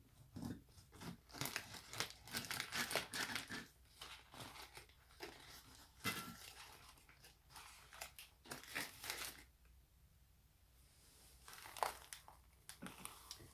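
A Burger King Maple Bourbon BBQ Whopper being cut in half, faint close crunching and crinkling of the wrapper and bun in irregular bursts, quiet and without talk.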